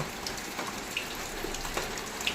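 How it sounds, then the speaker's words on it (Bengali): Heavy monsoon rain falls steadily, a soft continuous patter and hiss with scattered drop taps, heard from a moderate distance without talking. "ঝমঝম করে এখনো বৃষ্টি চলছে"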